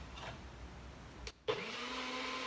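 A bullet blender whips honey butter with a steady whirring motor drone that cuts out briefly, then restarts and runs on at an even pitch.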